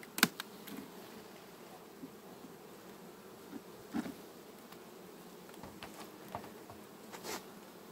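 Honeybees buzz around an opened hive in September, a low, faint, steady hum close by with a few sharper clicks and knocks of frames, no speech.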